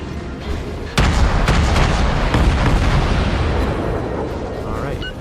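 A naval gun volley in a video game erupts as a sudden loud blast followed by a sustained, dense rumble of overlapping shots that slowly fades, heard close and filling the scene.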